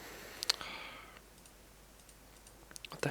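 Sharp mouse clicks while editing an image in software, a close double click near the start and a short cluster of quick clicks at the end, with quiet room noise between them.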